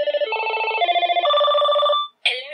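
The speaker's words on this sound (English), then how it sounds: "Let's just have a listen at the different ringtones this thing comes with." Electronic ringtone from a Binatone The Brick mobile phone plays as a stepped melody of bright, warbling beeps, loud and close, then cuts briefly before a short burst of a second tone.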